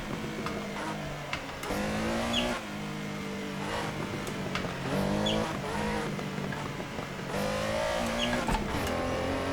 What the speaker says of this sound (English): I'm downshifting a lot because I'm so scared I'm gonna hit the wall.